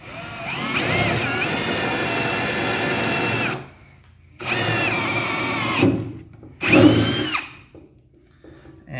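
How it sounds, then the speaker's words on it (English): A power drill bores through flat wood in three loud, close bursts, the first long, the next shorter, the last brief and rough, with whining motor pitch shifts and quiet pauses between. "So now as I drill, it's flat against the wood."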